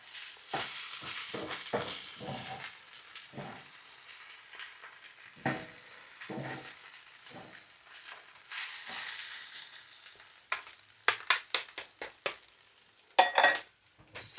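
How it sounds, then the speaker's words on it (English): Fried rice with salami sizzles steadily in a hot pan while a utensil stirs and scrapes through it, the hiss continuous under repeated sharper clinks and scrapes that grow louder and more frequent toward the end. "give it a stir"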